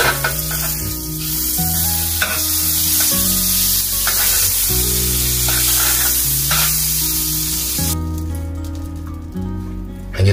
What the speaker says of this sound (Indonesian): saya siapkan ini panggangan ya, dan langsung saja dikasih sedikit mentega.